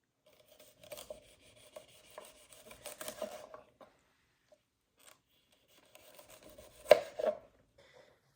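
A knife slicing diagonally through small bunches of asparagus on a cutting board, giving soft, close chops in two clusters separated by a brief pause, with one sharper cut near the end.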